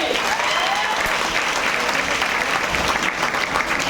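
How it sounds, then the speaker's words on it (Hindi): Loud, continuous applause from a large crowd at a DXN business event in Bihar, steady and dense throughout with voices mixed into the clapping. "चांदनी मैम सूरज सर के लिए जोरदार ताली।"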